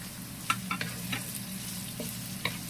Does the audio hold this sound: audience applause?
no